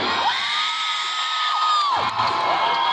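Loud crowd screaming, whooping and cheering for BMX bike tricks at a show in Albany, with children's shrieks rising over a dense, sustained roar of voices.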